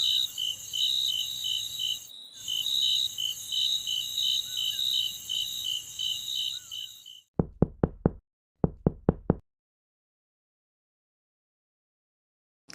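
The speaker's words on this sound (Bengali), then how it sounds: "কেউ বোধহয় দরজা ধাক্কাচ্ছে" Cartoon sound effect of knocking on a door: after a steady shrill cricket trill fades out, two quick bursts of four sharp, loud knocks ring out against silence.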